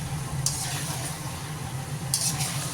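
Chicken pieces being fried down in oil for a red Bengali chicken curry with potatoes, giving a steady close sizzle with two brief brighter bursts of spluttering or stirring.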